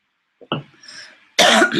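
A person indoors gives a short cough followed by a louder, harsher second cough, close and alone, from a spring tickle in the throat.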